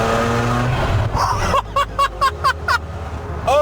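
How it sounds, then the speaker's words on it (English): A twin-turbo rotary-engined car accelerates hard nearby, a loud engine drone building and then breaking into a series of sharp, evenly spaced rising bursts as it revs through gear changes, with no talk over it. "This car has a rotary engine, and not only a rotary, has a rotary with twin turbos."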